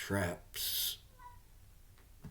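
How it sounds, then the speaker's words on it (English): A short cat meow, cut with a quick burst of hiss-like noise, then quiet room tone with faint sounds. "That was my cat meowing."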